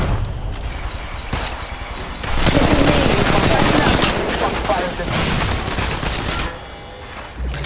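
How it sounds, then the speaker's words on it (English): A shooter video game played on a Poco X3 Pro phone fires dense, rapid gunfire in loud, sustained bursts, with booming impacts mixed in during the fight. "I'm taking fire."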